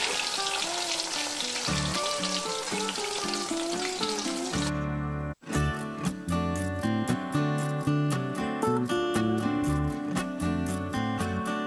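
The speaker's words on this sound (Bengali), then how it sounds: "একে একে টুকরো করে কেটে রাখা নুন, হলুদ, মিষ্টি মাখিয়ে রাখা পনিরটাকে আমি ভেজে নেব।" Pieces of paneer rubbed with salt, turmeric and a little sugar fry in hot white oil in a kadai, a loud, continuous close sizzle with bubbling and crackling, briefly interrupted by a sharp knock before the hiss resumes.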